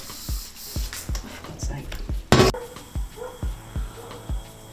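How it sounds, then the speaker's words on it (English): Rhythmic scrubbing of a carbon steel wok with a coarse green scourer and detergent, a steady series of short scraping strokes about twice a second, close by, with one brief louder spray-like hiss midway. "she's using a coarse green scourer just to get the film off"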